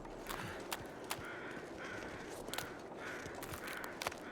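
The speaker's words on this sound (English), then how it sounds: "The sound of crows is really loud." Crows in The Long Dark caw repeatedly at a distance over a quiet outdoor backdrop, in a broken rhythm of harsh calls with short gaps between them.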